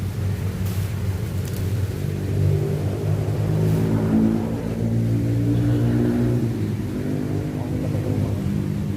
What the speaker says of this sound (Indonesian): Anginnya kenceng banget guys.